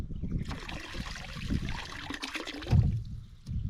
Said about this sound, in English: You can hear the water leaving now, going out over there.